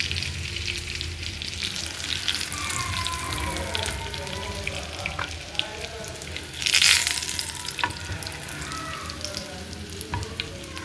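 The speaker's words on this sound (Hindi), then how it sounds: "और ये हो रहे हैं हमारे कबाब फ्राई।" Kebabs fry in a pan in a home kitchen, giving a steady, continuous sizzle with a brief louder burst of spatter partway through and faint clinks of utensils.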